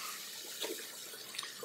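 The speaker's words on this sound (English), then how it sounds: "At this point, I'll always wash my face with warm water." Warm tap water runs faintly and steadily into a sink for face washing, a soft continuous hiss with a few small splashes and clinks.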